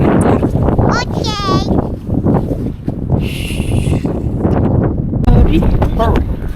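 Strong, cold wind in England's Peak District batters the microphone in heavy, roaring gusts while people talk and a voice rises over the rumble.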